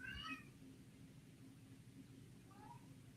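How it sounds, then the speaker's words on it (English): A cat howls from behind a door, a faint, muffled meowing wail at the start and another softer drawn-out cry near the end, distant beneath a low steady hum of indoor background. "My cat is going ape outside my door, by the way. I don't know if you guys can hear him howling."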